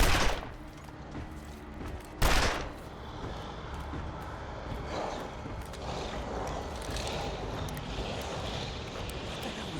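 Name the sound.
gunfire at a wolf in a video game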